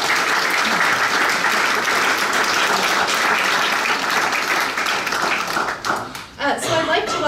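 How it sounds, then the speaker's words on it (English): Audience gives a sustained round of applause for Native youth programs at a celebration event, dense clapping throughout that thins briefly near the end before resuming. "So maybe we could give all the programs another round of applause."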